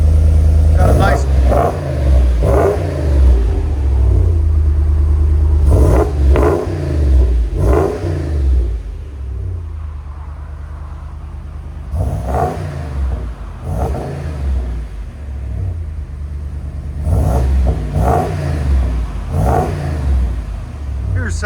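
A 2025 RAM 2500 pickup with a 6.4L HEMI V8, Vibrant bottle resonator and MBRP exhaust tip, revving loud and close in repeated bursts with a deep idle rumble between them and voices talking over it.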